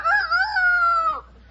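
A person imitates a rooster crowing in a single drawn-out, strained cock-a-doodle-doo lasting about a second, close and loud, then trailing off into quiet.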